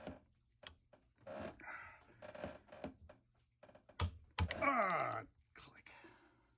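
Torque wrench clicking while testing a 3D printed Scotty-style connector, carbon fiber, on a big torque bar: a few sharp, close mechanical clicks and snaps, with faint voices at times.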